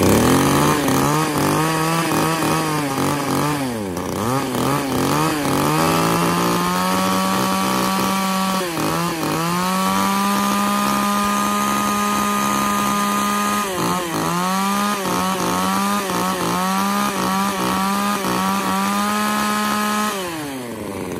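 A used Japanese Makita M3 chainsaw engine running on a test, close and loud, holding a steady two-stroke drone that dips and rises several times as the throttle is eased and opened.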